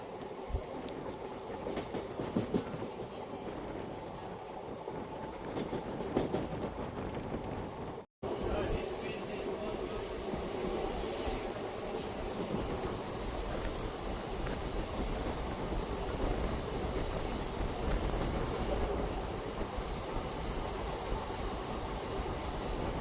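Inside the Wodeyar Express running from Mysore to Bangalore, a steady, loud rumble of wheels and carriage noise continues throughout, broken by one brief dropout, with voices faintly present.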